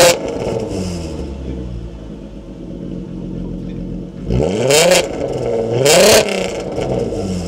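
A BMW M6 engine idles with a deep, steady rumble, then is revved twice in sharp rising roars that fall back, loud and close, with no talking.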